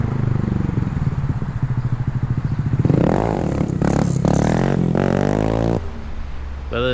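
A Honda Grom motorcycle being ridden for wheelies, its small engine loud and close, revving and pulsing steadily, then winding up in several sharp surges before easing off near the end.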